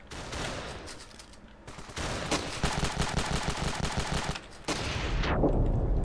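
Gunfire rattles in Ravenfield, with dense automatic bursts and overlapping shots at close range coming in loud waves with short lulls.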